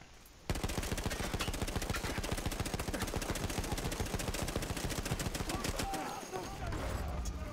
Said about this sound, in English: I just picked up a giant machine gun.